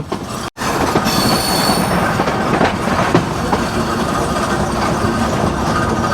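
A Drutojan Express passenger train runs on rails in Bangladesh near Ishwardi Bypass station, heard from on board as a loud, continuous roar of wheels with rhythmic clatter and occasional squeal.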